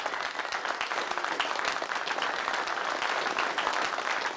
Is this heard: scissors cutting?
no